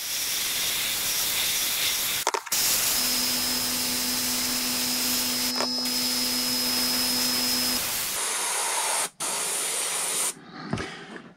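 Spray paint is being applied to a Kyosho Pegasus RC car body in short, loud hissing bursts, with brief pauses between passes and a faint tonal whine under one long spray. No one speaks.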